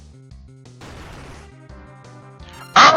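A character dies in Final Fantasy IV: a short, bright retro burst of noise hits at the end, loud and abrupt, over a quieter chiptune battle backing that steps along underneath.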